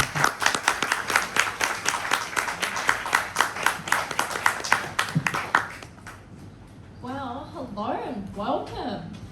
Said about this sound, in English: let's welcome Alyse with a big round of applause